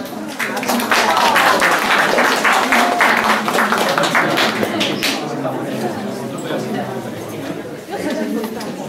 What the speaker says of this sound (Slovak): Veľký aplauz.